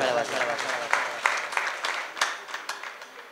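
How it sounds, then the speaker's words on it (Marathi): A crowd at a kirtan gathering applauds the performer, close and fairly loud, with dense clapping that swells and fades over a few seconds. "त्या माऊलीसाठी जोरदार टाळ्या वाजवा"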